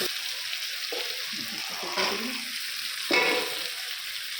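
Paneer and sugar fry quietly in a pan with a soft, continuous sizzle, while a utensil stirs and scrapes now and then, including one slightly louder scrape near the end.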